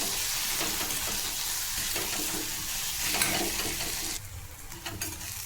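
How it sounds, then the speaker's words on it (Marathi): Spiced curry sizzles and crackles in a hot pan while being stirred, a steady frying hiss that drops slightly toward the end. "छान असं परतून घ्यायचं"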